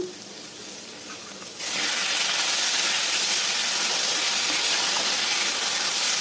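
Tomatoes frying in a pan for a boti gojju curry, heard as a steady loud sizzle and hiss that jumps up sharply early on and then holds, with no one talking.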